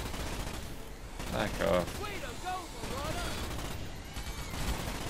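A gun in the video game Starship Troopers fires in a dense, continuous rattle of distant-sounding shots under a busy battle soundscape, while someone speaks briefly over it.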